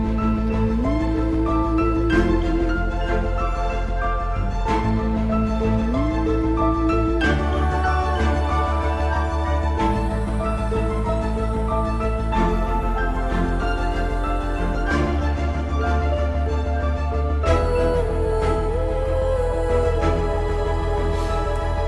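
A soloed percussion sample library layer from an orchestral track plays a dense, continuous texture with sustained tones and gliding pitches, loud throughout with no talking.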